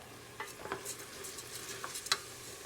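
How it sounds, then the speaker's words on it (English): Rice being stirred in a pan for chicken stroganoff, quiet scraping and clicking strokes of the spoon at an irregular pace over a soft sizzle, close and faint. "Now stir it up"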